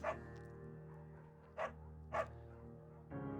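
A beagle named Bucket barks in the Firewatch video game, giving three sharp, separate barks spaced about half a second apart over a steady background hum, close and fairly clear.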